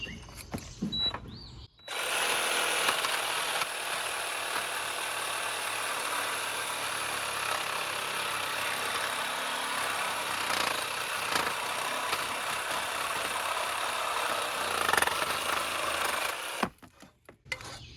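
Craftsman reciprocating saw cutting through a hardwood floor, a loud, continuous rough buzzing that starts after a brief pause and runs steadily for about fifteen seconds before cutting off abruptly.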